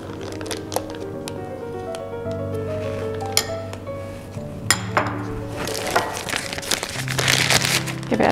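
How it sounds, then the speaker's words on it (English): Icing is spooned into a piping bag for decorating Valentine's biscuits, making soft crinkles of plastic and light clinks from the spoon. Sustained musical tones play underneath, and the rustling grows denser toward the end. "Take a nice spoonful, pop it in the bag,"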